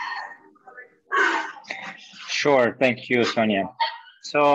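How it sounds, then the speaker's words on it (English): A dog barks intermittently in the background of a rural Philippines home, faint yips and short barks sitting under continuous close speech from a person talking. "I'm sorry for the dog in the background"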